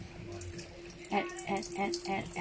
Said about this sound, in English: So you can add a tiny bit of water.